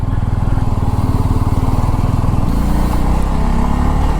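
A Bajaj Pulsar F250 (Pulsar SF250) 250 cc motorcycle engine under way, a steady loud rumbling drone that shifts pitch slightly partway through, with no voices.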